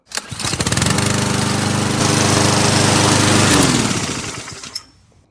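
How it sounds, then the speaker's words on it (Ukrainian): A lawn mower used as a blender on tomatoes roars steadily for several seconds, a buzzing, grinding engine drone with harsh chopping noise, then cuts off abruptly near the end. "перевіряю, наскільки газону косарку можу використовувати в якості блендер"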